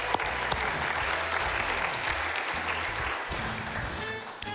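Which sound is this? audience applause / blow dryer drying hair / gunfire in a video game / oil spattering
audience applause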